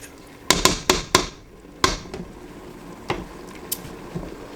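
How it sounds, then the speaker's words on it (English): Chili being stirred in a pot: a quick run of four sharp metallic knocks of a utensil against the pot, then scattered softer scrapes and taps, close and clear with no talk. "We're going to stir that up in there."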